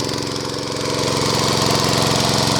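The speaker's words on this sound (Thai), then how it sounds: "ตอนนี้เครื่องเริ่มนิ่งแล้วนะครับ ใช้แก๊สแบบสมบูรณ์แบบแล้วนะครับ" A water pump engine converted to run on cooking gas (LPG) idles steadily, a loud, continuous close-up mechanical drone with a fast, even knocking pulse and no talk.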